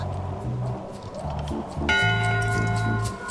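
A ship's bell rings in the pirate adventure game Return to Monkey Island, a short sequence of clear bright tones over a low game music bed, growing fuller and louder in the second half.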